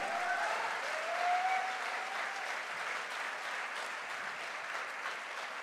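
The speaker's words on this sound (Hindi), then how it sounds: "अरे घनघोर ताली बनती है" Loud, sustained crowd applause at a direct-selling motivational event, a thick continuous roar of many hands clapping that swells slightly early on and then holds steady, with no speech over it.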